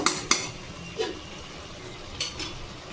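A lid goes back onto a cooking pot of butter chicken with onions: several sharp metallic clinks and taps, two close together at the start, then scattered single knocks over a quiet background.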